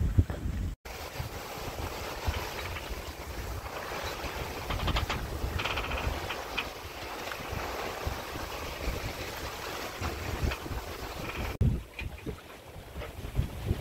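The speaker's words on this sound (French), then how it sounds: "un bateau qui avance en étant réglé, bien réglé quoi" A sailboat making way under sail with no engine running, with continuous wind noise and the hull rushing through water, steady and fairly loud throughout.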